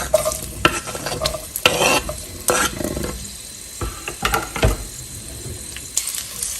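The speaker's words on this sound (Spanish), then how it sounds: "Vamos a utilizar una cacerola a la cual le vamos a agregar un chorrito de aceite. Y mira, le voy a agregar media cebolla en trozos." Half an onion in chunks hisses and sizzles in a splash of oil in a saucepan, with steady frying crackle broken by several sharp stirring clatters of a utensil against the pan, close and fairly loud, no talking.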